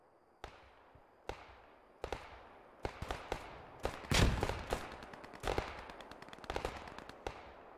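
Bursts of gunfire in a military video game, sharp cracks and rattling volleys spaced irregularly, growing denser and louder toward the middle with echoing tails, no talk.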